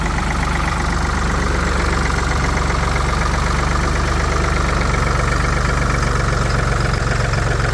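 A 1984 Ford 340A industrial tractor engine runs steadily in third gear, a loud, close, continuous mechanical drone with a rough, knocking undertone and no talking.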